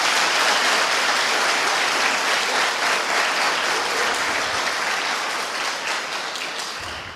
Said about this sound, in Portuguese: Alguém pode aplaudir Jesus com fé?